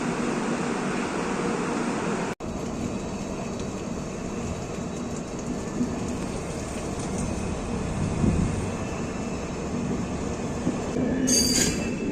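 The Shivamogga Town to Chennai Central express train, number 12692, rumbles steadily with a continuous low roar and faint wheel noise, a sharp click near the start and a brief high squeal near the end.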